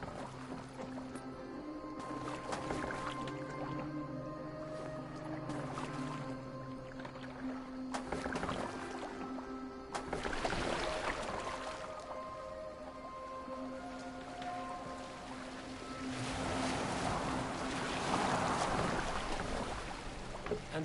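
Rowing a boat in Assassin's Creed Valhalla produces soft, repeated splashes and water washing beneath sustained in-game music, at moderate distance, with no talking.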